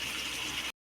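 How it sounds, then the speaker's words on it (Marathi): Water poured into a pan of chicken kharda as it cooks, a short close gush that stops abruptly. "पाणी ॲड करत आहोत."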